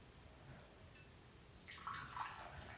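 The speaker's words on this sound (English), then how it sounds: "Now, let's pour our drink in there." Amaretto cherry almond martini pouring into a glass rimmed with cherry juice and almonds, a soft liquid trickle rising in the second half of a short, quiet stretch.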